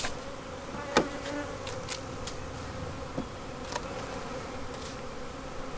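Honeybees in a hive opened during spring work, with comb being pulled out, give a steady, dense buzzing throughout, broken by a few faint clicks and knocks. No one speaks.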